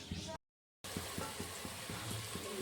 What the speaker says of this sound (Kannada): ಈರುಳ್ಳಿ ಫ್ರೈ ಮಾಡ್ತಾ ಇದ್ದೀವಿ